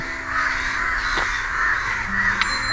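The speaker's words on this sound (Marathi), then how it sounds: "कशाला उडतात हे कावळे एवढे इथे गोंधळ चालू आहे" Several crows caw loudly and repeatedly nearby, gathered above a dead crow, their harsh calls overlapping against a steady outdoor background.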